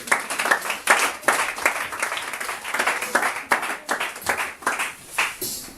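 Church congregation applauding during a Sunday service, many hands clapping in uneven bursts that swell and dip, fairly close and lively, with no voices over it.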